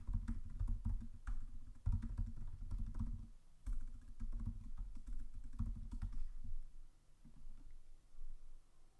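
Rapid keystrokes clatter on a computer keyboard in irregular bursts with brief pauses, close and clear, and the typing thins out toward the end with no voices.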